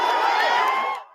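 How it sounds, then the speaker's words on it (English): A crowd outside a courthouse cheers and whoops in celebration after a historic guilty verdict, loud excited shouts and high voices blending into one brief burst that cuts off abruptly. "Outside the court, the crowd celebrated the historic verdict."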